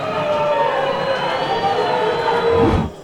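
A football crowd at the Martins Pereira stadium boos at half-time as São José trail Juventus, a sustained mass of disapproving voices that swells briefly before cutting off.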